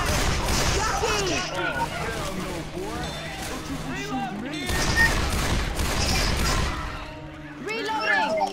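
Gunfire in the Left 4 Dead 2 video game with a Resident Evil 1 mod, rapid shots and bursts running almost without pause, loud and dense, with excited voices talking over much of the shooting.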